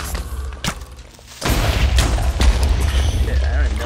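Explosions in the Minecraft video game: a sudden loud booming blast erupts partway through, followed by a sustained rumbling roar of continued detonations, with lighter game sounds before it.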